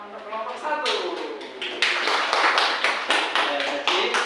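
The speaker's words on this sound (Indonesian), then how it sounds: "Beri tepuk tangan untuk kelompok 1" A classroom of students claps for a group of classmates after their science presentation on light passing through objects, a dense run of claps with a teacher's voice over it.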